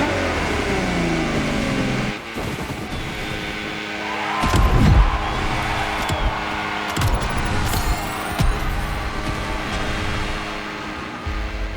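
A Ferrari in the racing game The Crew Motorfest revs after winning a race: an engine roars and rises in pitch, with a burst of tyre and exhaust noise midway and then several shorter revs at moderate level.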